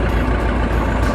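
Bulldozer crawler tracks rolling with a steady, loud heavy engine rumble throughout, a continuous close mechanical drone with no break.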